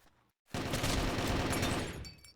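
Burst of rapid gunfire in a competitive team video game match, a dense fusillade lasting nearly two seconds, loud and close, starting abruptly after a brief silence and tapering at the end.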